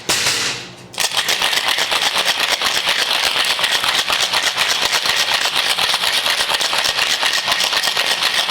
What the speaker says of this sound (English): And then we're gonna shake it.